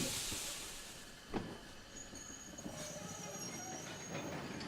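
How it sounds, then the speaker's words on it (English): Railway wagons clank and knock with a faint squeal and hiss, heard from a distance in a steady rumble. "wagons began clanking about as the engine arranged the train"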